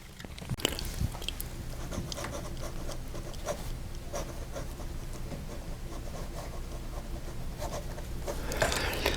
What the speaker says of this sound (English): then we're going to go to the polishing side, and here we're going to go a little faster with a little bit more pressure